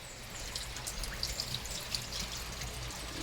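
Tiny alamang shrimp being rinsed in water: a soft continuous trickle and splash with faint drips, quiet and close, no speech.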